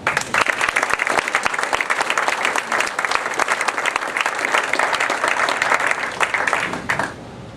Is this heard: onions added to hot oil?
no